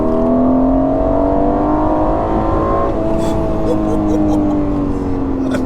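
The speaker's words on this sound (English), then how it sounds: "It's a V8 too, isn't it? Yeah, V8. Big turbo." Heard from inside the car, the twin-turbo V8 of an Aston Martin Vantage drones loud and steady while accelerating, its pitch climbing and then shifting. The engine fills the whole stretch.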